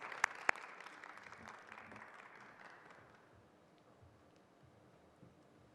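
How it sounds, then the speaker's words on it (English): Audience applause at a university Founders' Day ceremony honoring award recipients, moderate clapping from a seated crowd that gradually thins and fades to near quiet. "Please join me in a round of applause for our distinguished award recipients."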